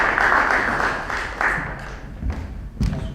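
Applause from a crowd greeting a speaker at a 2018 election event fades out, leaving a few scattered claps and thumps at the end.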